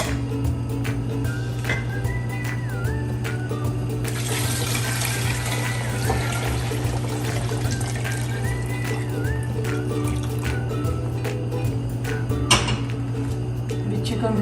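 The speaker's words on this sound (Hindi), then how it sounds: "अभी देखो ये मेरा उबाल आ गया।" A pot of water with corn comes to a boil for chicken corn soup, a steady bubbling and hissing wash under a constant low hum, with a brief rise in the middle.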